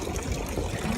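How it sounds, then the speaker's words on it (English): A water bottle being filled from an outdoor drinking fountain in a flower-filled lakeside town, a steady low trickle of water running continuously and fairly quietly with no talking. "She's gonna fill up her water bottle."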